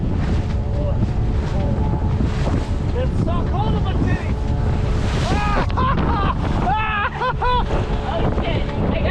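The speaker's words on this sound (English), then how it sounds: "we got pretty blasted with 15 to 25 knot gusts of wind" Heavy wind gusts roar across the microphone aboard a sailboat heading into open water, a constant loud rush with loud talking and shouting over it.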